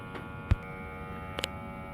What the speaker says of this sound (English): I got my smoke machine set up